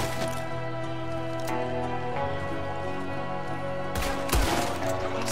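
Gunfire from a shootout in Red Dead Redemption 2, with a sustained musical score underneath and a burst of loud, sharp blasts near the end, including one heavy boom.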